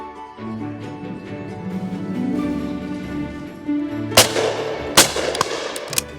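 A William Powell Perdix shotgun fires at partridges on a shoot, with two or three sharp, loud reports in the last couple of seconds over a steady, tonal background.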